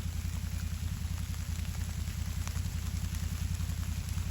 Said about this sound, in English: It's starting to rain a little bit more